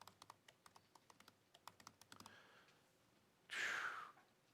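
Close, quiet computer keyboard typing: a quick run of distinct key clicks in an irregular rhythm, followed by a soft rustle and then a louder burst of noise near the end.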